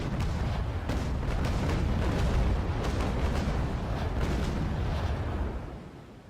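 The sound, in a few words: naval guns firing shots in a warship video game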